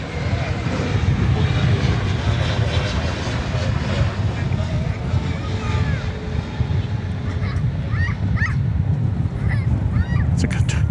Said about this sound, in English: It's a Qatar Airways cargo plane.